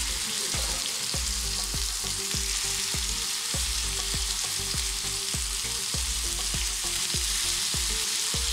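Beef boti kebab pieces frying in a grill pan with a little oil, a steady close sizzle broken by regular soft knocks roughly every half second, no talk.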